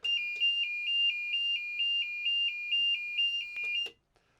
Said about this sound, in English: So that audible alarm that's able to be triggered via the communication from the battery